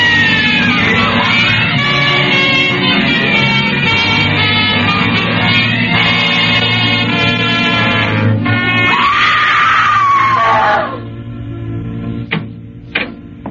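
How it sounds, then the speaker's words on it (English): A woman screams in a radio drama as she flees out the front door toward the street, a loud, sustained wailing cry that holds for about ten seconds before breaking off into a few brief, sharp sounds. "then she went screaming out the front door towards the street"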